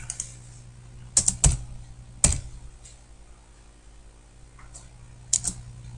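A computer keyboard clicks during CAD drafting, with a few sharp keystrokes and spacebar presses arriving in small clusters, close and fairly crisp over a quiet room.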